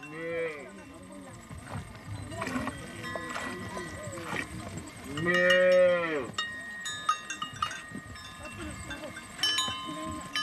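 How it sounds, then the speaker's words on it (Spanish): Mursi cattle low and moo repeatedly in a corral at dusk in Ethiopia, several drawn-out calls near and far over a busy background of shuffling, bells and distant human voices. "Su ganado también está ya en el corral."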